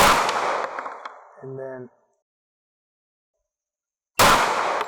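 A .45 ACP SIG 1911 pistol fired at a refrigerator outdoors; one sharp loud report at the start and another after a silent gap, with brief talk in between.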